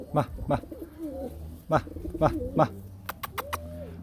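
Pigeons coo close by in repeated soft throaty phrases, with a few sharp clicks near the end; someone talks over them at first.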